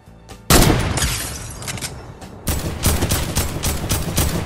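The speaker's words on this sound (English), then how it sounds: "Oh, buddy, you're about to get sniped in your cranium." Gunfire in the video game Fortnite, including a sniper rifle shot: a sharp, loud report that cuts in abruptly, a sustained burst, then a second run of rapid, repeated shots.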